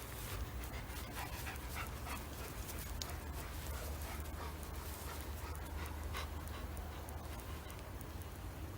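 A dog pants rapidly and steadily at close range during training, with faint whimpers now and then, its breathing layered over constant background noise and no talking.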